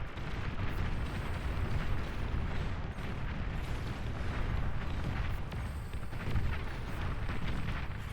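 Pounder artillery units in the strategy game Beyond All Reason fire nonstop, bunched together and hitting each other, producing a dense, loud barrage of overlapping booms and blasts with no pause throughout.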